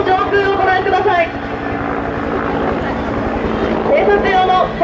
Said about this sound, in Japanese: 偵察用のヘリが侵入してきました。